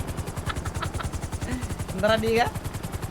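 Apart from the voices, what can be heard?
helicopter flying in a video game roleplay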